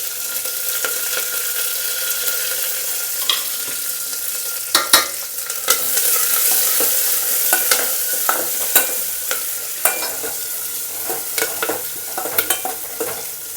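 Oil sizzles steadily in a pan as a tempering of garlic, onion and curry leaves fries while a spoon scrapes and stirs, with sharp clinks and clatters at irregular intervals.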